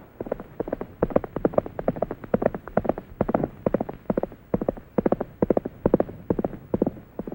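Trigger, the horse in a Roy Rogers western, clip-clops along in a steady, brisk rhythm of close, crisp hoofbeats that continue without pause and with no voices over them.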